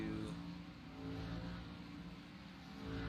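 Race cars in the iRacing video game accelerate at a green flag restart at Richmond, a steady layered engine roar that swells toward the end, with faint voices underneath.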